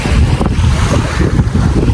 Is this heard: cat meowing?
no